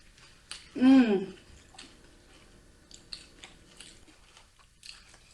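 Close biting and chewing of tacos during a mukbang, one loud crunchy bite followed by quieter wet chewing and small mouth sounds, with a brief murmur from the eater.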